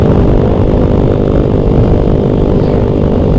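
A Honda XR200R motorcycle with an aftermarket exhaust and a suspected engine noise runs close by, a loud, steady, rough single-cylinder chugging that continues unbroken for the few seconds.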